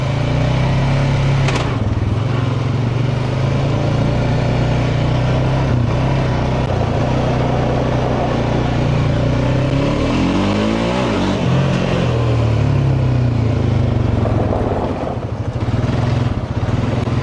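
An ATV engine revs steadily and loudly while the machine is being driven, droning close by with a slight rise in pitch near the middle as it shifts gears, and no talking.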